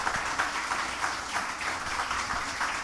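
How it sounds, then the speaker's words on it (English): An audience at a book launch claps steadily, a broad wash of applause from a crowd, moderately loud and continuous. "Please applaud her."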